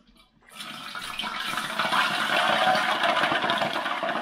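Loud, steady sizzling and crackling of hot fat spitting as water hits it, a dense hiss that starts after a brief silence and keeps going.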